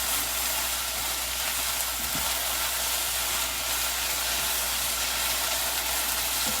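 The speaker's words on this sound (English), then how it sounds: "they're getting fried. So I'm gonna go ahead and add the onions to this" Onions sizzling with nopales in a hot pan, a steady broadband hiss and crackle running evenly throughout with no talking over it.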